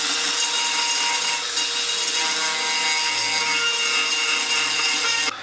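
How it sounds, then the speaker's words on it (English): A surface top is sanded down, a continuous loud abrasive rasping close by with a slight back-and-forth rhythm, alone without talk. "Sand down the top a little bit."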